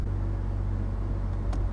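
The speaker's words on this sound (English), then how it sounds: "I like the sound of the supercharger" Cadillac XLR convertible engine with supercharger, a steady low rumble with a faint whine on top, close and continuous, one brief click near the end.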